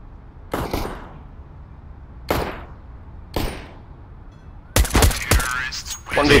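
Pistol shots in Counter-Strike on the Overpass map: three sharp single gunshots spaced about a second apart, then a denser burst of shots and clatter near the end, loud and close.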